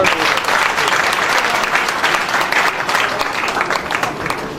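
Loud, sustained applause from an audience at a gathering, a thick wash of many hands clapping at once with faint crowd murmur underneath.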